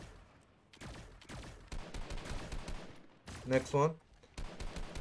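Fortnite gunfire in a trio match, bursts of shots crackling between excited voices, with a louder cluster of sharp reports near the end under ongoing chatter.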